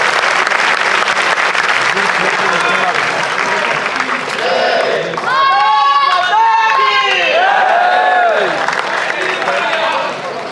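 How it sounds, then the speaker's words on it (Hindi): Audience applause welcoming a lieutenant general at a book launch event, loud sustained clapping and crowd noise, with some cheering and voices rising over it in the middle. "तुमन ताली बजा के दिल खोल के स्वागत करो भाइयों"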